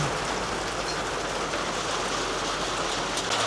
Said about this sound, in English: These big raindrops are getting in here.